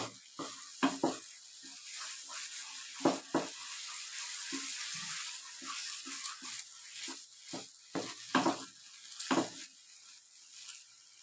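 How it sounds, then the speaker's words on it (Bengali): A gram flour and milk sweet is stirred in a frying pan with a spatula. Quiet, irregular scraping strokes repeat against a soft sizzle, with no talking. "এরকম করে নাড়াতে নাড়াতে এটা খুব সুন্দর মিষ্টি বানানোর জন্য রেডি হয়ে যাবে।"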